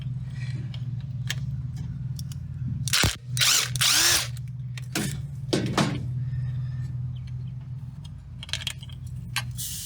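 A ratchet and socket working a bolt loose on a Big Block Ford engine in a station wagon, with a few loud bursts of metallic clicking and rattling over a steady engine-bay hum.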